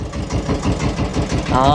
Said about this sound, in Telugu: ఇక్కడ మోటార్ ఉందండి ఆయనకి ఓకే బుల్లి మోటార్ అనమాట